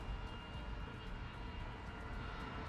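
A-10 Warthog jet engines in the War Thunder flight game, a steady dense roar held at a constant loud level throughout as the throttle is worked, with no speech.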